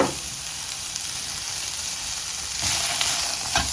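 Onion sizzles steadily in a frying pan while cooking for japchae, Korean stir-fry noodles, with a continuous close hiss that grows a little louder and brighter near the end; no one speaks.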